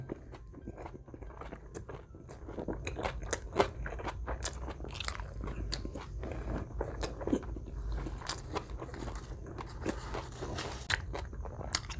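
Menudo soup being eaten with tortilla, with close, repeated crunchy bites and wet chewing in an irregular rhythm, joined by light scraping and clicks, with no talking.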